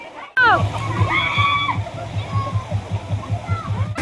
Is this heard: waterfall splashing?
yes